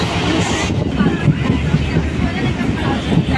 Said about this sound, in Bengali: বেলানগর স্টেশনের ট্রেন ঢুকে গেছে।